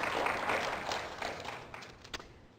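Audience clapping at a talk: soft, brief patter of many hands that fades away over a couple of seconds, faint and somewhat distant.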